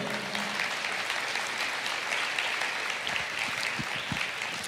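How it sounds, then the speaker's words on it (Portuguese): A church congregation bursts into sustained, dense applause that fills the space evenly from start to finish, many hands clapping together with a steady roar and no break. "Pode aplaudir o Senhor?"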